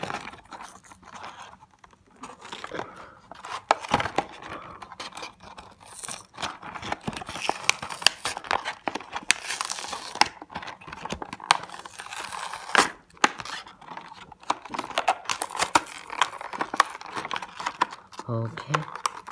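Crinkling plastic and tearing cardboard as a Cars 3 diecast Conrad Camber shiny wax Next Gen number 82 toy car is unboxed, with irregular close-up rustles, rips and clicks running through the whole stretch.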